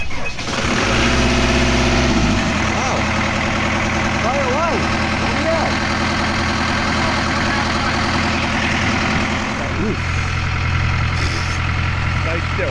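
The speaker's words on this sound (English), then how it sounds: "It's now time to start the engine for the first time and see if she runs okay." A boat engine cranks and fires up for the first time after work, then settles into a steady, close, droning idle with a low throb throughout.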